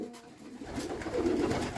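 Pigeons coo softly in a village loft, a low murmuring that swells and continues steadily over faint background noise, with no talking.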